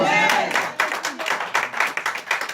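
Congregation clapping at a church prayer vigil, a burst of rhythmic hand claps building after a brief voice at the start, steady and fairly close.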